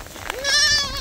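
A young goat bleats once, a loud, close, wavering cry rising and holding for about half a second, over faint background noise during a hailstorm in the countryside.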